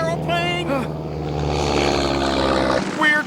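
A propeller airplane drones steadily with a rough, buzzing engine note throughout, loud and close, while voices shout over it in animated excitement.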